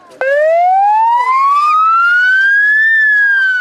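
A police car siren switches on suddenly and very loud, its wail rising steadily in pitch and then starting to fall, heard close.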